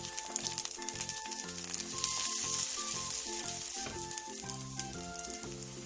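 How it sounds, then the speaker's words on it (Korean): Thin mugwort pancake (ssukjeon) sizzling steadily in a hot oiled pan, a close, continuous crackle with faint kitchen clatter over it. "바닥이 노릇노릇하게 익으면 뒤집은 뒤 꾹 눌러주세요"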